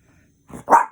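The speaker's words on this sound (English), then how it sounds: "That's my dog acting up." A dog gives a single sharp bark close by, preceded by a brief softer huff, in an otherwise quiet indoor room.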